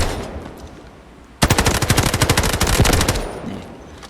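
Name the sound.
Ci19 assault rifle gunfire in video game Delta Force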